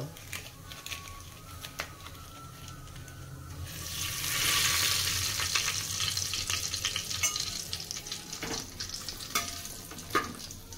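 Cumin, cinnamon and bay leaf fry in hot oil for an Odia vegetable pulao, a steady close sizzle that swells louder midway, with scattered stirring clicks and utensil taps throughout.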